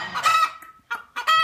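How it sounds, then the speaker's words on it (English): Chickens in a family farmyard cluck in short, close bursts, with a couple of quick calls separated by brief pauses. "过来呀，鸡鸡们，过来吃东西呀！"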